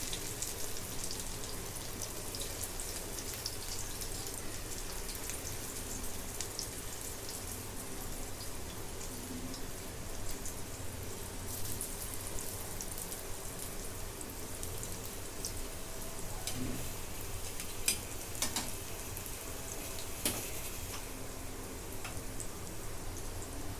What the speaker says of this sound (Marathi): आता तेल गरम झाले आता एक एक वडी मी अशी सोडून घेते